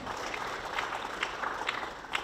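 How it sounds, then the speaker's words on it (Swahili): Audience applauding at a Dodoma gathering honouring the Member of Parliament for Dodoma Mjini, a steady wash of clapping hands lasting throughout at moderate volume, with scattered sharper claps standing out. "Tumpige makofi mengi sana mbunge wetu."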